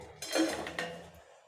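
A metal pot is set down with a clear clank while making moong dal and sago payasam, followed by a brief light clink of utensils, close by and with no talking.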